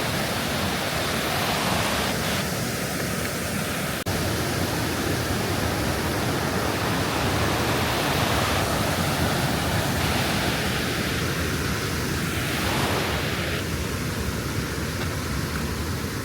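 Steady, loud rushing white water fills the whole stretch, a dense continuous roar like a fast mountain stream tumbling over rocks close by, on the Ala Kul hike in Kyrgyzstan.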